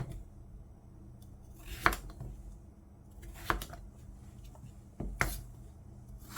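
A knife slices green kabocha squash into bite-size pieces on a cutting board, a handful of sharp, crisp cuts landing at irregular intervals against a quiet kitchen background.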